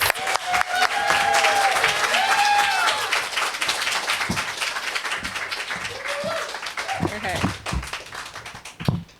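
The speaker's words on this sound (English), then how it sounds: "Please give Emily a warm round of applause." Audience applause welcoming poet Emily Yoon at a university reading: a burst of clapping from a seated crowd, with a voice talking over it and scattered taps and thumps near the microphone.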